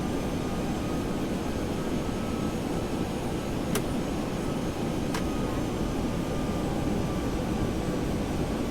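Steady airliner engine roar during a landing approach in the X-Plane 11 flight simulator, a constant broadband rumble with two faint clicks.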